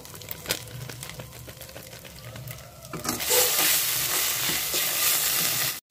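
Chili powder sizzles in hot oil while paneer and cauliflower curry is being made; a quiet stirring scrape gives way to a loud, steady frying hiss for the last few seconds.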